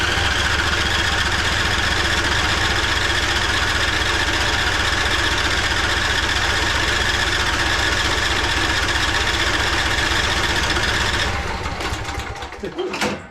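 A 2011 Craftsman PYT 9000 lawn tractor engine cranking without starting: a loud, steady, rapid mechanical churn for about eleven seconds that then stops, followed by some faint rattling.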